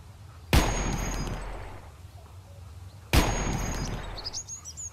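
Two loud gunshots from the survival video game Mist Survival, each a sharp crack with a long decaying echo, spaced about two and a half seconds apart, with faint bird chirps in the background.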